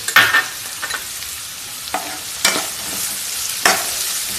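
Cashew nuts frying in a pan give a light sizzle broken by several sharp scraping stirs, close and fairly loud, with no talking.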